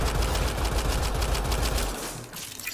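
Rapid automatic gunfire from a weapon in Mass Effect Andromeda, a dense rattling burst of repeated shots that runs steadily for about two seconds before cutting off into quieter game ambience.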